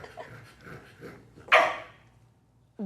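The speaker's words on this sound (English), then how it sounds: "What are you barking at?" A dog gives a single sharp bark close by, after some soft whining noises.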